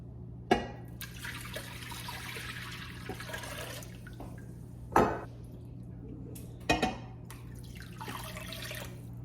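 Water poured over three marrow bones in a slow cooker, a few short splashing pours with clinks against the crock, near and clear over a steady low kitchen hum.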